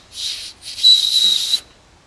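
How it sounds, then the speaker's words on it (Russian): A weak emergency whistle built into a Chinese promo backpack is blown twice at close range, giving two breathy, airy hisses with only a thin, faint whistle tone in the second, longer blow. "здесь есть свисток аварийный. Ребят, он ни хрена не свистит"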